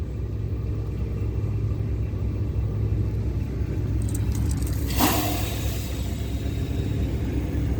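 Idling engine of a camper van after a restart: a steady, close, low rumble with no gaps, and a brief light clink about midway.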